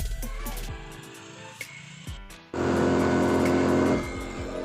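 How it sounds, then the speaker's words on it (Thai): A Honda Dream motorcycle engine starts up on a trip to Khao Yai after some quieter handling noises. It then runs at a loud, steady idle-to-rev drone close by and eases slightly near the end. "ฟังเสียงเครื่องยนต์นะคะ"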